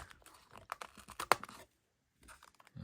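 A sharp blade cuts into Hot Wheels blister packaging, making a quick burst of close crunching and crinkling plastic before it falls silent.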